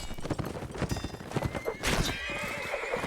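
In a video game, a horse whinnies loudly over a quick run of clip-clopping hooves, with the neigh rising near the end.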